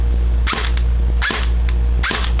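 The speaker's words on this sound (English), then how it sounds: "And after full auto, put it on semi." An airsoft AK47 rifle fires three short, evenly spaced bursts, each a sharp snapping crack, over a loud steady low hum close to the microphone.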